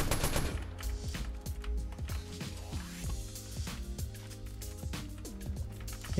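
Rapid bursts of automatic gunfire in the video game Fortnite as an enemy is shot, loud and close, repeating in quick rattling volleys with no talk.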